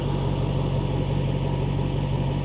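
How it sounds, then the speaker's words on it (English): Mercedes SL600 V12 twin turbo idling, a steady low exhaust rumble with an even, unbroken drone held close and fairly loud throughout, no voices over it. "listen to that exhaust"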